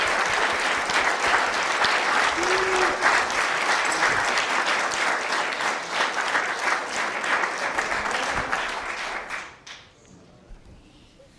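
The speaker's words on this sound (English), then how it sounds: "Give them a big round of applause." Audience applause at a Founder's Day event for LMM staff, loud dense clapping from a large crowd that holds steady for about nine seconds, then fades quickly to near silence.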